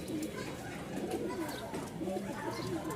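Pigeons kept in a loft and preparing to lay eggs coo in soft, overlapping low calls, with a person talking over them throughout.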